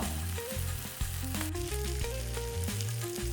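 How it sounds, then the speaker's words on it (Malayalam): A pan of fish curry sizzles and bubbles steadily up close, with a soft melodic tune playing underneath; no talking. "മീൻ ഇവിടെ മുരിഞ്ഞുകൊണ്ടിരിക്കുകയാണ് കേട്ടോ"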